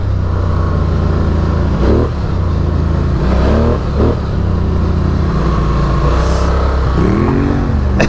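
A Polaris Sportsman 1000 XP ATV engine roars loud and close, revving up and down repeatedly with sweeping pitch rises and drops as the quad drifts and slides across the ground.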